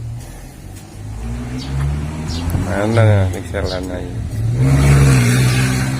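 A car drives past near a rural village house, its engine swelling loud and close for a couple of seconds, while someone talks over it.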